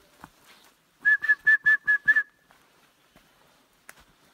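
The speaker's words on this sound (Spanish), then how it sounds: "esta es la forma en la que trato de disuadir a un oso" A person in the woods of Kinaskan Lake Provincial Park whistles to ward off a bear, six short, evenly spaced, shrill whistle blasts in a quick sequence, fairly close and clear against near silence.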